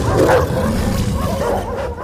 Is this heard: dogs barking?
yes